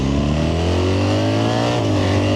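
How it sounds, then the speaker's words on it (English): A BMW R1300GS Adventure with the ASA automatic gearbox accelerates hard under load, its engine note climbing steadily and loud, with a brief shift-like dip before rising again. "when you put it under load, you get a little surprised by the gears"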